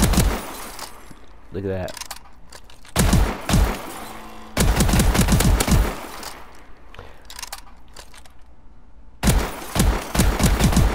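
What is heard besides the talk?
S12 semi-automatic shotgun firing in Call of Duty: Advanced Warfare video game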